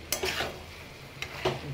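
Fried spice paste being stirred in a pan over high flame, with a few brief scraping strokes against a steady low sizzle, close and fairly quiet.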